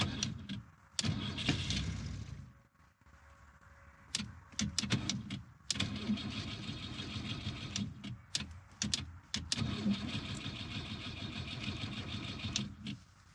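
Engine of an abandoned Lamborghini cranking repeatedly but failing to start, with bursts of starter whirring broken by short pauses and clicks, close and fairly loud.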